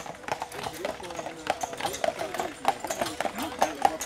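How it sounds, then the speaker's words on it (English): Horses walk along the path up to Neuschwanstein Castle in Germany, their hooves giving a steady, close clip-clop rhythm while a person talks over it. "Oh, look at the beautiful horses."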